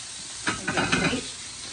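Soft sizzling and crackling from oyster mushrooms frying in a pan, a steady hiss with a brief louder spurt of popping in the middle.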